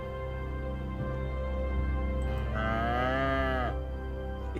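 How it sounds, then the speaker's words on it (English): Cows moo in Cities: Skylines II, a single drawn-out low moo rising and falling over a steady droning game soundscape, moderately near. "There's cows somewhere. Oh, we've got cows"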